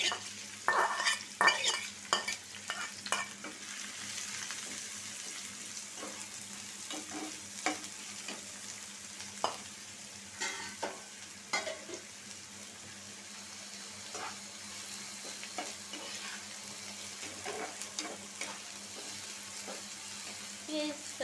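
Spice paste for a prawn bhuna frying in hot oil in a pan, with soft sizzling and repeated scraping stirs of a spoon, close and steady over a faint background hum, no talk.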